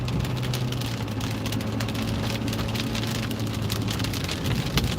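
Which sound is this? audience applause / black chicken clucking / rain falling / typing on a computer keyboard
rain falling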